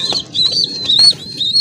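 Pigeons at a pigeon seller's stall, with a pair and their babies on offer, give repeated short high chirps and calls over a low rumble, with a brief flutter of wings.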